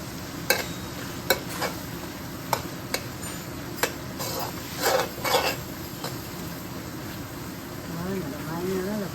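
Chicken for biryani sizzles steadily as it sautés in a hot pan, broken by sharp scraping clicks of a utensil against the metal as it is stirred.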